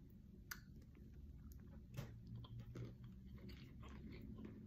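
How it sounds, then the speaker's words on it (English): A shrimp is bitten and chewed close to the microphone, giving a few sharp crunchy bites followed by soft, moist chewing. The sound is quiet, with no voices. "Alright, let's bite it. Straight into the shrimp."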